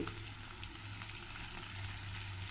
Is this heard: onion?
yes